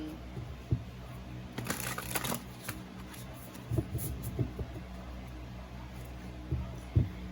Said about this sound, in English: I double shuffle because I shuffle in between and then I shuffle for now